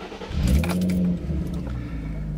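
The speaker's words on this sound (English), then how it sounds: "you're going to let go of the accelerator and turn the car on, at least for 20 seconds" A Nissan 350Z engine cranks briefly and fires, settling into a loud, steady idle close by, with a faint metallic jingle at the start.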